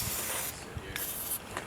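Short bursts of PB Blaster penetrating oil hissing from an aerosol can onto a damaged vehicle frame, two or three sprays over steady background noise.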